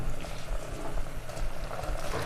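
Water bubbling at a steady boil in a cooking pot for egg biryani, with rice and water in a home kitchen; a continuous, moderately loud bubbling and hissing with no talk over it.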